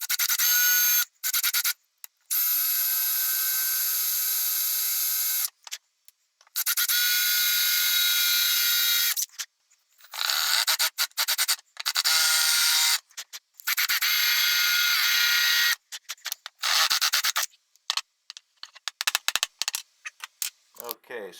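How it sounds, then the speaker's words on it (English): A drill bores out stripped screw heads on an old carpenter's tool box, with repeated harsh high-pitched grinding bursts broken by short pauses, loud and close. "so we're drilling the heads. We're taking the heads off with a drill."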